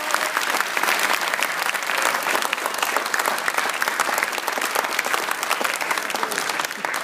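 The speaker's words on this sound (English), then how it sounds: "Let's give them a round of applause." An audience claps for the participants of a school presidential debate, dense steady applause filling the room for several seconds with a faint murmur of the crowd beneath.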